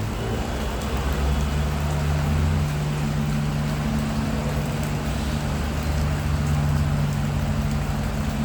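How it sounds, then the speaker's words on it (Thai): Steady rain falling, a continuous hiss of drops on surfaces with a low hum underneath. "สภาพบรรยากาศ ฝนตก ฝนรินมาฝากกันนะครับ"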